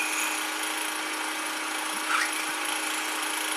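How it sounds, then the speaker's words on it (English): A small drill bit spins steadily while boring a guide hole into wood ahead of a Forstner bit, a continuous, fairly quiet high whir with a faint scrape of cutting partway through and no talking. "Now I put a very small drill"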